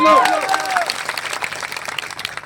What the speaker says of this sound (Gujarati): એમના માટે જોરદાર તાળીઓ પાડી લો